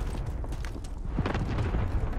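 An airstrike detonates in Call of Duty Warzone with low, rumbling booms and scattered bursts, moderately loud and muffled, with no talk over it.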